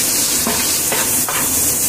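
Food sizzling and frying steadily in a pan during cooking of a shahi beef biryani, a continuous loud hiss with soft stirring scrapes at intervals, no talk.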